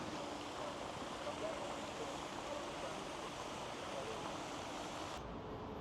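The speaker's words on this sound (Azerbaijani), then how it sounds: "Amma su adam üstünə doğru sıçrayır." Water from a city fountain in Almaty splashes in a steady, even rush. It is faint and distant, a continuous wash without distinct drops.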